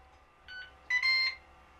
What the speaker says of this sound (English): the timer is about to run out